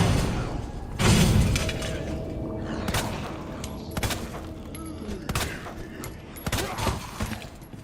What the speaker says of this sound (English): Right, that's 4 shots. He should have been dead. 5 shots.